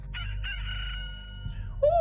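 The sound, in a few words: rooster crowing in the video game Loop Hero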